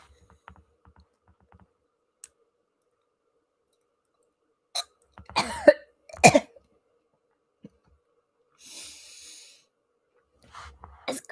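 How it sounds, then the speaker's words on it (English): A few harsh coughs burst out close by, separated by quiet stretches, followed later by a breathy exhale. "That is true, but it is making me cough."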